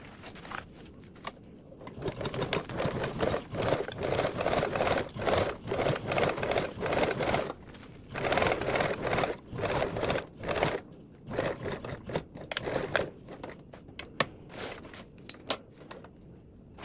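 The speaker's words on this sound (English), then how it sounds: "sewing between point to point." Sewing machine stitching a duffle bag seam point to point, a steady run of rhythmic stitching with brief stops and fabric handling toward the end, close, no talk.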